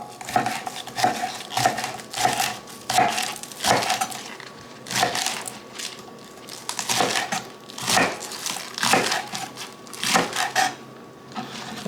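Salad ingredients for a steak salad being cut on a cutting board: a string of sharp knife chops and knocks in uneven bursts, with short pauses and occasional clatters of utensils, close and moderately loud.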